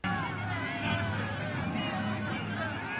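Crowd of mourners at a funeral in House of the Dragon, a continuous murmuring babble of many voices with scattered raised calls, dense and steady throughout at moderate loudness.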